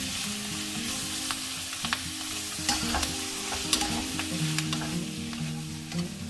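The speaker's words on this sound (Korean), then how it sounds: "너무 달궈졌으니까 불을 끄고 깨끗이 씻어서 잘라둔 양상추를 넣는 거예요" Washed, cut lettuce stir-fried in a hot pan with salt, the heat switched off, giving a dense, crackling sizzle with frequent sharp pops and the rhythmic scrape of tossing, close and loud throughout.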